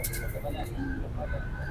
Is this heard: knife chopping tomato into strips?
no